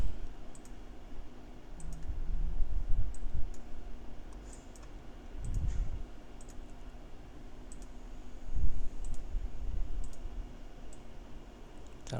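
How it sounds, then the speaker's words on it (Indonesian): Computer mouse clicks while someone tidies up a worksheet during a home math lesson, a scattered series of short sharp ticks over a low room hum, no talking. "pakai mouse saja."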